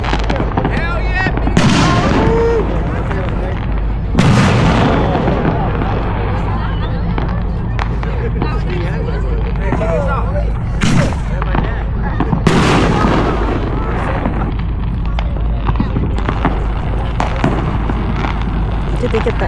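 July Fourth fireworks in Blaine and Birch Bay go off in loud, heavy booms and crackling bursts throughout, with people talking and cheering over the continuous outdoor din.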